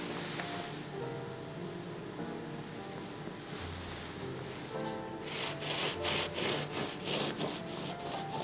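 A knife saws through an egg-free, dairy-free pumpkin loaf bread baked in a plastic container, starting as a soft rubbing and becoming a rhythmic series of close, crisp back-and-forth strokes.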